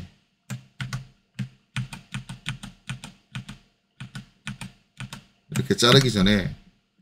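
Computer keyboard typing nearby, a string of about a dozen separate crisp key taps at an uneven pace, with someone speaking briefly near the end.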